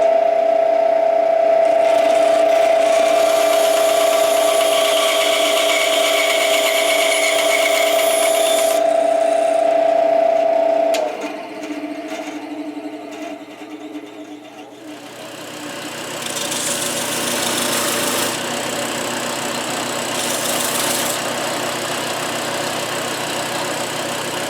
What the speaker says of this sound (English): I'm going to use my bandsaw to make the initial cut, and then my belt sander to smooth it out.